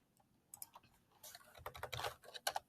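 Fingers type a web address on a computer keyboard, producing quiet, irregular clusters of crisp clicks that grow busier toward the end, with no voices.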